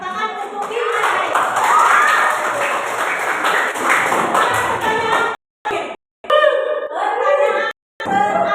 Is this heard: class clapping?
yes